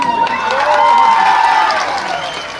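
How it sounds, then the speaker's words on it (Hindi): A crowd at Amit Shah's rally in Dumri claps and cheers, a steady wash of applause and voices that holds throughout before easing slightly at the end. "क्या ताली बजा रहे हो डुमरी वालों?"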